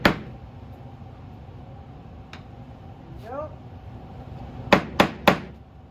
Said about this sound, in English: use a little finishing hammer